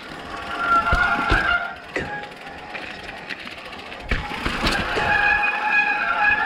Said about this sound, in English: Oh, rip, my brakes are going to be loud today.